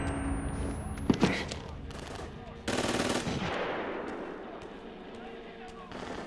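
Automatic gunfire bursts in Outlast Whistleblower, a loud rattling volley around the one-second mark and another sustained burst near three seconds, fading into a rumbling background with brief sharp cracks.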